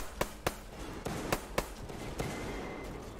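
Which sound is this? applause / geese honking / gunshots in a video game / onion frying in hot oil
gunshots in a video game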